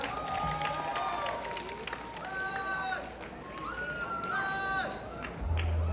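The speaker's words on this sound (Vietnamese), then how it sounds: "Vỗ tay lớn quý vị ạ." Applause and cheering from the audience at a live Vietnamese music concert in Lake Charles, Louisiana, a steady wash of crowd noise with scattered whoops and shouts, mixed with some speech.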